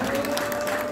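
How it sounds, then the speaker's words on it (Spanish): Brief crowd applause at a quinceañera mariachi show, a dense wash of clapping with a sustained musical tone held underneath, lasting only about a second. "Fuertes aplausos, que se escuche para ella"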